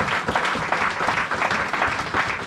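A church congregation acclaims during a sermon on fasting and prayer, with dense, steady clapping and cheering that fills the space for a few seconds without pause.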